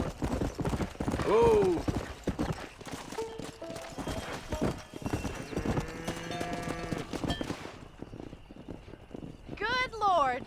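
Horses clip-clop and whinny while cattle are driven in Red Dead Redemption, with busy rhythmic hooves, a horse neigh near the start and another near the end, as characters speak over the herd noise.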